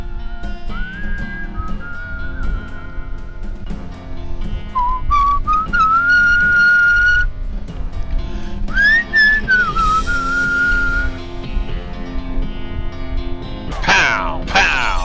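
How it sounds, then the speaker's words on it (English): Melodic whistling from the western RPG West of Loathing, a clear tune of sustained and sliding notes over a continuous game backdrop, with a sharp effect burst near the end. "Love the whistle."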